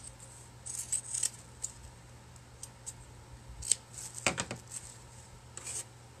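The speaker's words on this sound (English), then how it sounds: "So, I have this extra here, the material. I'm just going to cut that off." Scissors trimming extra fabric from a doily and material pumpkin craft, a few quiet snips and rustles over a low background hum, with a sharper cut and rasp partway through.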